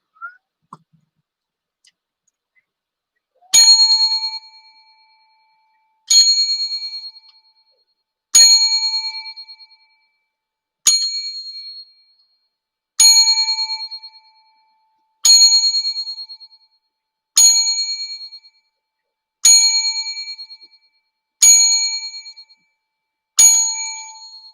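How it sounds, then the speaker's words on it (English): Ten chimes ring out as a tribute to Hank Aaron, each one clear and resonant, struck at an even pace a couple of seconds apart and fading out between strikes against near silence. "We pause briefly for the 10 bells."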